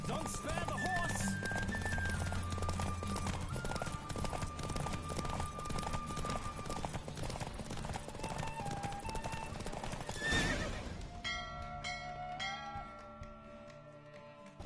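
Horse hooves clip-clop at a gallop during a race in The Witcher, with occasional neighs over steady game music and rushing ambience; the music thins out near the end.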